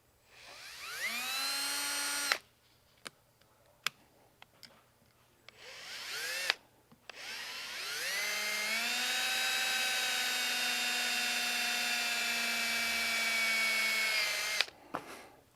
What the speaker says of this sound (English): I always pre-drill a hole